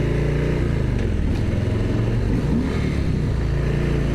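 Harley-Davidson Sportster motorcycle exhaust revving hard, a loud, close, rumbling low-pitched blat that stays throaty and sustained throughout with no talking.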